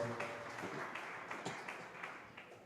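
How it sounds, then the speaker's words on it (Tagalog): A church congregation at a preaching service claps together in praise, a continuous wash of many hands with rhythmic accents, moderately loud and roomy, with no talking over it. "pumalakpak ng malakas sa ating mahal na Panginoon"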